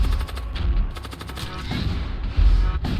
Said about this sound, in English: Fusillade is off or ready to go. Fire those two.